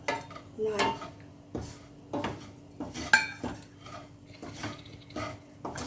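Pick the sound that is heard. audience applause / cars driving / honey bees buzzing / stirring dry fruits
stirring dry fruits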